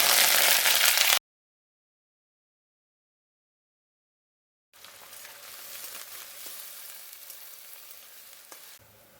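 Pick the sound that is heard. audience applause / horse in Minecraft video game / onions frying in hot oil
onions frying in hot oil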